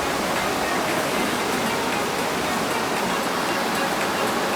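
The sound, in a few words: water gushing through Partnachklamm gorge, Germany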